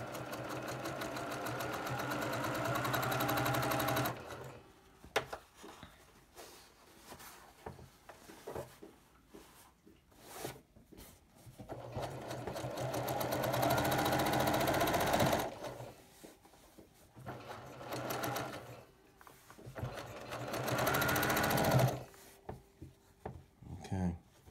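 Sewing machine stitching pinwheel quilt pieces closed, its motor buzzing in several steady bursts of a few seconds each, separated by quiet pauses and small handling noises.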